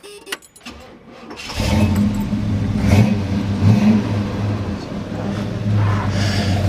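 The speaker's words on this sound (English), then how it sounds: "Also has a nice dual exhaust with Flowmaster mufflers, so gives a little bit of a rumble." A 1968 Buick Wildcat V8 with Flowmaster dual exhaust mufflers cranks over briefly, catches and settles into a loud, deep, steady rumbling idle close by, with a few light revs.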